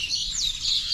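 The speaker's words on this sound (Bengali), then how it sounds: "ওই দেখো কত সুন্দর পাখির ডাক" Birds call in a village setting, a short run of high, bright chirps and warbles over quiet background.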